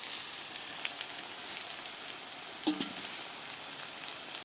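Ginger, garlic and cumin paste frying with onions in a pan, a steady close hiss and crackle of sizzling oil running throughout with one brief louder clatter midway.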